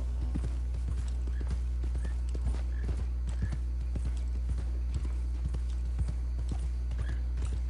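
A Criollo horse in Red Dead Redemption 2 Online clip-clops at a steady trot, its hoofbeats evenly spaced over a constant low rumble, with no talking.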